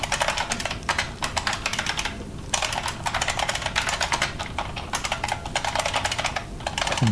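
Fast, dense clatter of keys on a computer keyboard, typed in quick bursts with short pauses, close and clear with no talking.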